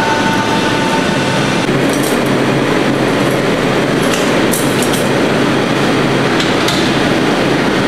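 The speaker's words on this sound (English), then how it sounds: "he's gonna grind this out one time" A meat grinder works beef hindquarter trimmings marbled with fat, giving a loud, continuous mechanical rumble and churning roar that holds steady throughout with no talking.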